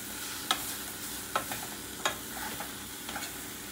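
Blueberry pie filling with melted sugar simmering in a pan gives a soft, steady sizzle and bubble, broken by a few faint clicks of a spoon against the pan.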